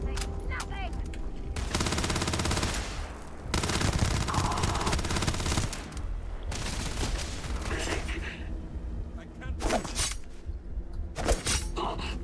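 Rapid bursts of weapon gunfire in the video game Starfield, loud and close, with dense automatic volleys broken by short pauses and a voice talking at times.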